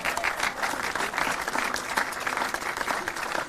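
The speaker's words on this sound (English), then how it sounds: "Let's give a round of applause for our 3 contestants." Audience at an outdoor municipal band concert gives steady, dense applause for three contestants, a continuous crowd-wide clapping that holds at even loudness throughout.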